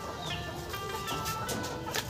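Farm chickens, just brought down from a tree, give soft, quick clucks at moderate distance over a low background hum in a brief burst.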